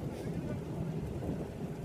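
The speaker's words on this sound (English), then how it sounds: "Oh yeah, it's raining." Steady rain falls outdoors at a Walt Disney World resort, a continuous soft hiss with no distinct drops standing out, lasting about two seconds at a moderate, even level.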